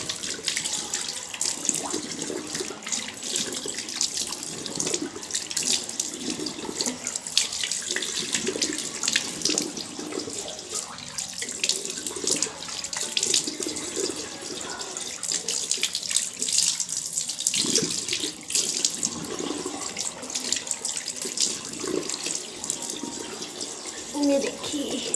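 Tap water runs steadily into a sink while a face is washed, a continuous close splashing hiss with small irregular splatters over about twenty-five seconds.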